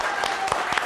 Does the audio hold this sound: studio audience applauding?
yes